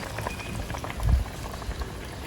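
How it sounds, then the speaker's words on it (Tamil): A pot of fish curry bubbles and simmers close by, a steady dense gurgling with a slightly louder burble midway. "இனி கொதிச்சாங்க கறி கொதிக்கட்டும் பார்ப்போம்"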